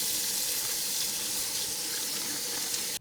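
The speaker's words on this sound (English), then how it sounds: "I take the napa and I wash each leaf and kind of let it dry." Tap water runs steadily into a sink while napa cabbage leaves are washed one by one in a home kitchen, a constant close hiss that stops abruptly at the end, with no talking.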